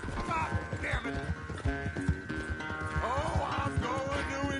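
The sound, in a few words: horse hooves clip-clopping in video game Red Dead Redemption 2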